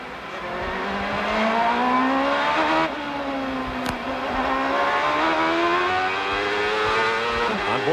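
A CART race car brakes hard into turn 1 at Long Beach in 1998, its engine note rising and falling through downshifts, steady and fairly close, with no talk over it.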